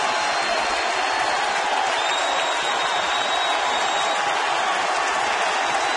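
Baseball stadium crowd roaring steadily for a curtain call after a home-run grand slam, a continuous dense wash of cheering and applause with no break throughout.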